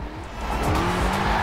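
Car drifting in the Forza Horizon 4 racing game, steady engine roar with a sustained tire squeal throughout, loud and close, no talking.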